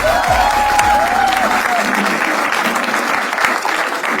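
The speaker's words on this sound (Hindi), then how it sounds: "तो शुरू करते हैं तालियों के साथ।" A live stand-up comedy audience breaks into loud, dense applause that fills the room continuously, with a faint tonal whistle briefly rising over it early on.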